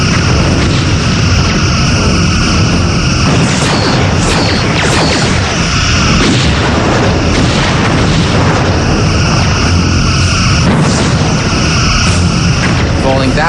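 Torpedo fire and explosions in the Star Trek Bridge Commander space combat game, loud repeated booms and crashing blasts over a dense roaring background, with a voice talking throughout.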